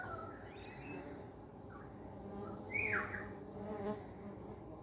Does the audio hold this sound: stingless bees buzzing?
yes